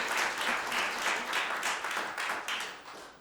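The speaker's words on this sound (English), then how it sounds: "that deserves a round of applause" An audience at a cannabis industry gathering in New York gives a round of applause: dense, fairly soft clapping that swells in waves and holds steady for over three seconds with no talking.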